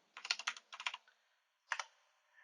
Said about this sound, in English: if I could type while I was talking